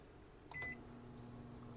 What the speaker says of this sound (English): just 10 seconds here in the microwave